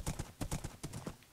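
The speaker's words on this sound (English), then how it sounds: "Horse." Horse hooves clip-clop in the Minecraft video game with a quick, even run of about nine soft hoof beats, fairly faint, followed by a sudden bright burst at the end.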